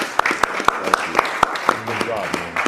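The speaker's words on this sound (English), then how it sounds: "let's give Marty a round of applause" A small audience claps for Marty in a sharp, uneven rhythm of individual claps, close and fairly loud, with voices cheering and talking over the top.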